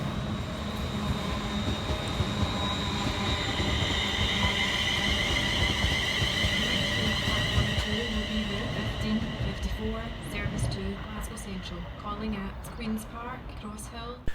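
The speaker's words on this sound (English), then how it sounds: "Also passing by the station is 380-019, working 2 Mike 86 for Scotrail from Glasgow Central through to Newton via" A ScotRail Class 380 electric multiple unit passes through Pollokshields East station in Glasgow, making a sustained rumble of wheels and motors that slowly fades, with someone talking over it.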